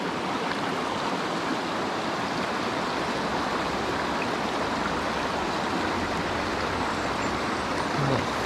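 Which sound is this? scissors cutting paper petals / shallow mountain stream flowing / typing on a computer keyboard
shallow mountain stream flowing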